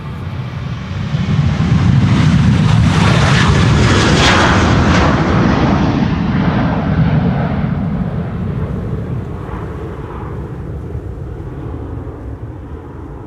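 A SunExpress airliner climbs out of Schiphol from the Polderbaan runway 36L in windy weather, bound for Mersin. A loud jet roar builds quickly, holds strong with a whining edge, then slowly fades as it moves away.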